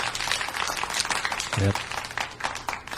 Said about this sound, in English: I got the applause